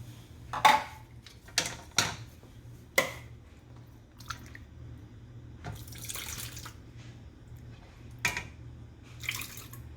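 Ground pigeon beans are strained using their own cooking liquid, with irregular wet splashes and pours, sharp drips and squishy sloshing at close range, and no voices.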